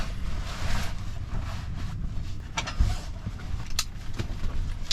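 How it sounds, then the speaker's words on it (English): Strong wind at a desert campsite in Valley of Fire, a loud, continuous rushing roar buffeting the microphone with occasional sharper gusts and rattles. "The wind's ripping and we want to get out of here."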